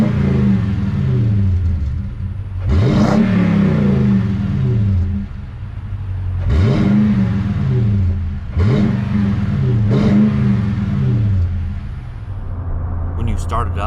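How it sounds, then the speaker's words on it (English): Toyota Tundra V8 engine and exhaust while driving, a rich throaty rumble that rises in several repeated revving surges through the gears, with someone talking over it much of the time. "the V8 just has a luxurious, rich, throaty sound that makes the drive better"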